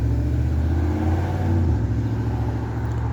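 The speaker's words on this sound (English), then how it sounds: "it's loud out here, cars out here." Outdoors, road traffic gives a loud, continuous low engine rumble as cars pass close by, with an engine note shifting midway. No voices are heard over it.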